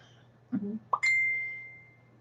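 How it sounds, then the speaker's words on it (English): A phone's text message notification plays as a short two-note chime, a low blip then a brighter ping, with the higher tone ringing out and slowly decaying over a steady low hum. "Another text message."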